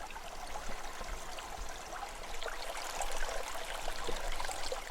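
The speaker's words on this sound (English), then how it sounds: "So there's a creek and fresh water nearby." A creek flows near an abandoned mine camp, giving a steady, moderately faint rush and trickle of water that swells a little toward the end.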